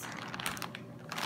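Scissors cut into a squishy mail package, giving close, irregular crinkling and crunching plastic sounds in short bursts with no talking.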